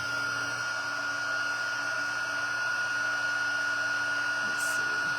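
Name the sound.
heat tool blowing hot air on a craft card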